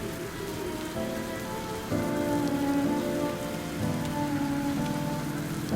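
Steady rain pours down in the Duet Night Abyss video game, a dense, even hiss of drops on surfaces throughout, with a low tonal music bed underneath and no talk.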